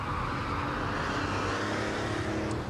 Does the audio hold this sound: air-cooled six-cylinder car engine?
yes